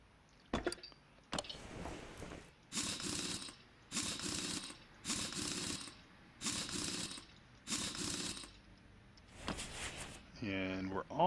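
Ratcheting wrench work on the rear of a car in Car Mechanic Simulator 2018, heard as six evenly spaced bursts of rapid clicking, each about a second long, with a few separate clicks before them.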